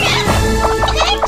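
Cartoon chickens cluck in a Chicken Invaders: Revenge of the Yolk shooter game, a quick run of short clucks over busy game music and effects.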